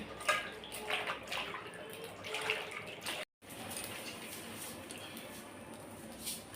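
Hilsa fish pieces are rinsed in water, giving a faint, close splashing and sloshing with a brief silent break partway through.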